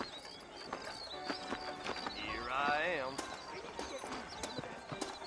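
Horse hooves clip-clop at a steady walking pace in the Western video game Red Dead Redemption, set in a frontier town. A brief whinny rises midway, and a voice speaks over the hoofbeats.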